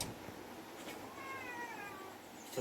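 A cat gives one drawn-out meow in a backyard, moderately close, over a steady outdoor background hiss.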